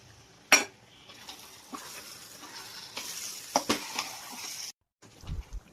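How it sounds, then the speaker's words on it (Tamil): Spoon stirring raw mango pickle in oil with turmeric, chili powder and salt, with clinks against the pan, soft scraping and a faint sizzle in bursts, close and fairly quiet with no talking. "நாம் மஞ்சத்தூள் மிளகாத்தூள் உப்பு சேர்த்து நல்லா கிளறி கொடுக்கணுங்க"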